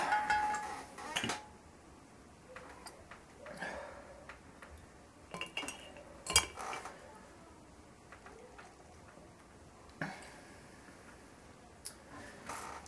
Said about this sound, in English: And now it is time to bottle.